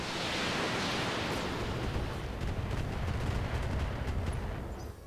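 Mech weapons, including a plasma cannon, fire in the RogueTech BattleTech mod, a sustained roaring rumble of blasts and bursts with a sharp onset that washes into dense noise and fades out slowly.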